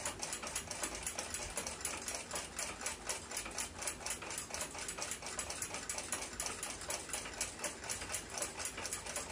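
Oxidized parts of an 1880s Seth Thomas mantel clock being brushed in quick, even, repeated strokes, a close and steady rhythmic scrubbing that continues throughout without speech.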